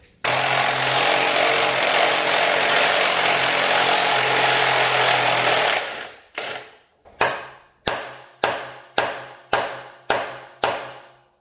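A pneumatic impact tool works a bolt on the rear end of a Duramax truck: one long loud continuous rattling burst, then seven short sharp hammering bursts in an even rhythm, close up with no talking.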